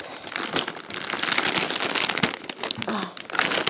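Small packaged bag of meringues being pulled open, its plastic wrapper giving a close, steady run of crinkling and crackling with a few sharper tearing bursts.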